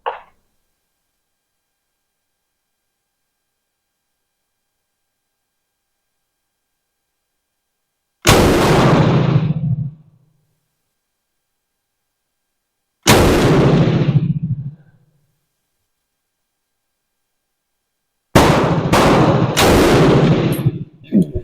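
A Bren Mk2 light machine gun fires in three loud, close bursts, each lasting about a second or two and separated by silence, with the last burst sounding choppier.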